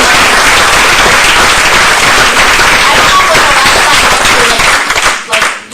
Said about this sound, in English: So, like, round of applause for those guards, Dylan.